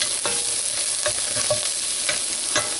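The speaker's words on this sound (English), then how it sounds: "Continue stirring this a bit." A spoon stirs flour and a seafood mix in a pot for catfish courtbouillon, scraping in repeated strokes over a steady sizzling hiss, close and moderately loud with no talking.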